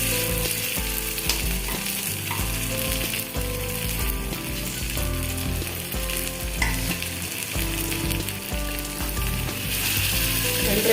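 Fish sizzles and fries steadily on a hot stone griddle over low flame, a dense, loud crackle with small scraping clicks running throughout, no voices.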